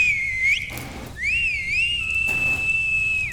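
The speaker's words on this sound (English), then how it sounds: "Just then, a deafening whistle pierced the silence." A loud, piercing whistle sound effect, used as a horror-story cue, rises and sweeps in pitch across two long sustained tones with a short gap between them, then holds steady before cutting off.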